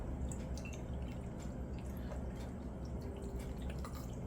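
Liquor pours steadily over fruit for a scratch-made birthday cake, a continuous low, splashing trickle with no talking.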